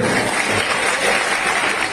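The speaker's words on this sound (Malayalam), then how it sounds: "അത് കൈയടിച്ചോളെ" A classroom audience of students claps together, a dense, steady burst of applause that fills the room at a constant level for two seconds with no voices over it.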